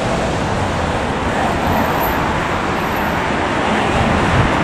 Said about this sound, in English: Oh, it's busy traffic.